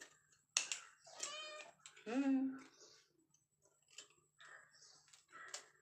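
A cat meows repeatedly, begging for sardines while the fish is being cut at home, its cries rising and falling close by, with a voice talking between and over the meows.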